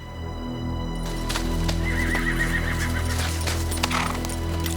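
Horses whinny loudly and repeatedly over steady hoof clip-clop and a low rumbling ambience, with several riders' mounts close by throughout.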